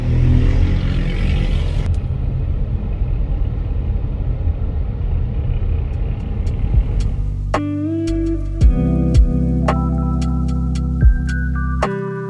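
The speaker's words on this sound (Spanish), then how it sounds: "también ingresa el sonido del motor a la cabina" A Soueast DX7's engine drones as a steady low rumble inside the cabin for about seven seconds, then bright electronic tones and chimes ring out over the lingering hum.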